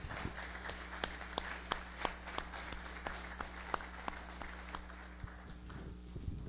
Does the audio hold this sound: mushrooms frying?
no